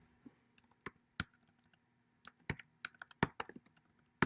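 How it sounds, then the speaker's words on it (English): Typing on an Apple computer keyboard, with sparse irregular key clicks that pick up into quicker bursts, close and fairly quiet with no talking. "man, this Apple keyboard"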